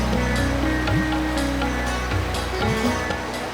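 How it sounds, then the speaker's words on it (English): Small babbling waterfalls spill where fresh water meets the sea among mangroves in Australia's north west, giving a steady, close rush of running water with a low droning tone running underneath throughout. "There's just little babbling waterfalls all through here."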